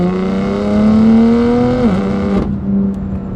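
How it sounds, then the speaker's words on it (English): A BMW S55 engine in an M4 GTS with an Active Autowerke equal-length exhaust revs up, loud and close, in a rising exotic-toned howl. It dips briefly, then cuts off sharply into a lower idle. "It's just engine and exhaust."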